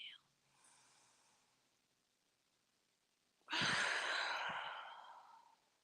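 One full tai chi exhale pushes all the air out. A faint breath comes first, then a long, strong, airy rush that slowly fades over about two seconds.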